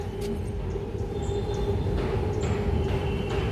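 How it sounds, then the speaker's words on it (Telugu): Steady low rumble of a passing train with a constant hum and occasional faint high squeaks, heard from a short distance. "ఇదిగో ట్రైను కనిపిస్తుంది"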